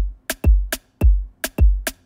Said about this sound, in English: The bass drum is going to be on every beat, and the snare drum is going to go from being on the fourth square and the third square.